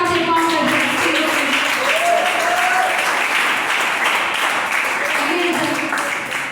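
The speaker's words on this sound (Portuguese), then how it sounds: "Igreja, pode fazer palmas para Jesus." A church congregation applauds together during a worship service, a dense, loud and sustained wash of clapping that carries on evenly throughout and fades slightly at the end.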